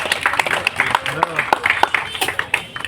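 An audience claps in a steady run of sharp, closely spaced slaps at a street magic show in Odisha, with a voice talking loudly over the clapping throughout.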